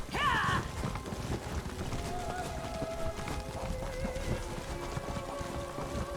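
Hooves clatter in a steady galloping rhythm in the video game The Elder Scrolls Online, under a dense wash of noise, with a brief whinny at the start and a faint sustained tone after.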